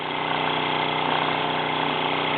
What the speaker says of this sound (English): This particular engine now is finished priming and settling down into a usual routine.